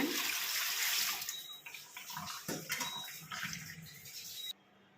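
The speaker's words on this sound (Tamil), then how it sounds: "கொஞ்சம் பச்சை தண்ணி ஊற்றி வடிகட்டிக்கலாங்க" Cold water is poured over boiled potatoes to cool and strain them, a steady close splashing stream that runs for several seconds and then stops abruptly.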